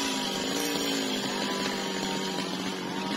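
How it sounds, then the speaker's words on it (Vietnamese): A G4500 chainsaw roars continuously and loudly at close range while cutting through a huge dipterocarp tree. "Rồi giờ cưa cái đọt nữa các bạn ơi."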